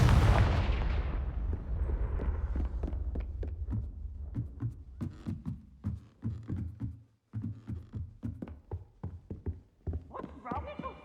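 Confringo spell blasts in Hogwarts Legacy go off as a big opening explosion, then a rapid series of sharp bursts and thuds, with a short silence before more bangs at the end.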